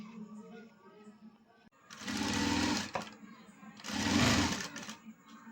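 A sewing machine stitches piping onto an elbow puff sleeve in two loud, steady bursts, each running about a second, separated by a short pause and quiet handling noise.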